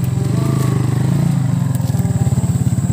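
Motorcycle engine chugging and revving steadily over a rough dirt track, close and loud, with a pulsing low rumble that quickens toward the end.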